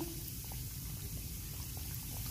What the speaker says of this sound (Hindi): फ्राई करने के लिए कढ़ाई में हमने ऑयल को अच्छी तरह से गर्म कर लिया है। अब हम इनको रखते जाएंगे